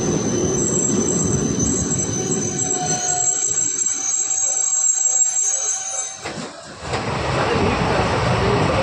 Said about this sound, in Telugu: సో ఇప్పుడైతే మన ట్రైన్ అయితే స్లో అయింది స్టాప్ చేయడానికి